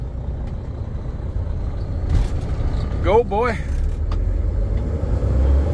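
A new truck loaded with wheat drives along during harvest, its steady engine rumble continuous and close throughout, with a voice speaking briefly over it.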